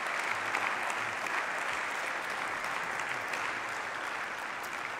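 Sustained applause from a full plenary hall of the German Bundestag, a dense, steady wash of many clapping hands that carries evenly through the whole stretch without pause or voices.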